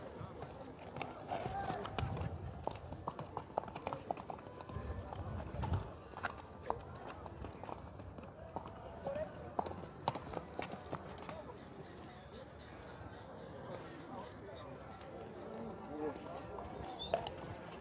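A mare's hooves clop steadily at a walking pace outdoors at a horse fair in Campina Grande, Brazil, moderately close, with people talking over them.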